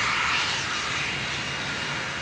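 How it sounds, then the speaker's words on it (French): Aircraft engines roar loudly and continuously as planes operate at Hyères airport in the south of France, a sustained, close, broadband rumble with no speech. "à l'aéroport de Hyères, le ballet des avions a commencé"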